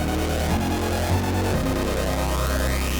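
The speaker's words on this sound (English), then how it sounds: "Turn on the arpeggiator and it instantly gives it some rhythmic motion." Korg microKORG synthesizer with the arpeggiator on, a dense, loud synth tone cycling through rapid repeating notes with a steady rhythmic pulse and a rising sweep.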